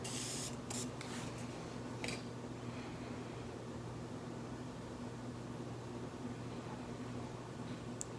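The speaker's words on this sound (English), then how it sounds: "I am going to spray with my Morphe spray" A few quick hissing bursts of a Morphe makeup setting spray bottle near the start, then a steady low hum fills the rest.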